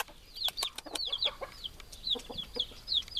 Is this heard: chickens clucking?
yes